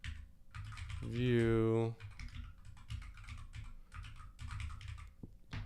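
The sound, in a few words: typing code on a computer keyboard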